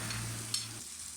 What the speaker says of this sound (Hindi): अब इसमें टमाटर और हरी मिर्च एक साथ डाल देंगे। 5 मिनट थोड़ी सी कर लें।